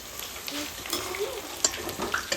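Garlic cloves fry in hot oil with a steady, close sizzle and crackle, broken by occasional stirring scrapes and pops.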